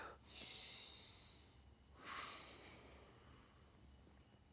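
Two deep, audible breaths during a reverse table stretch in a home stretching routine: a long hissing exhale followed by a shorter second breath, close and fairly quiet, with no talking.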